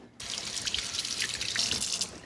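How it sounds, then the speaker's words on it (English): Tap water runs steadily into a kitchen sink as hands are rinsed, a close, continuous splashing flow starting abruptly and lasting about two seconds with no talking. "Let me rinse my hands."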